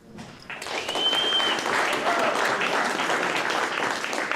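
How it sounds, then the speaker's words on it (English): Audience at a ham radio and emergency services organizations panel applauds the guests, steady clapping swelling in after a brief pause and holding, with some voices mixed in. "A round of applause."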